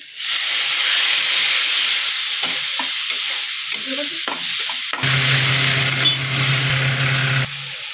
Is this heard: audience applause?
no